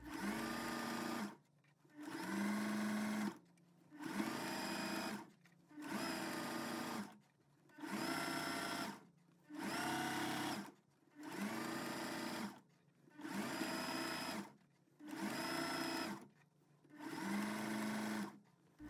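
Sewing machine stitching a second pass around a skirt waistband, running in about nine steady bursts of two seconds each with short pauses between, loud, close and alone.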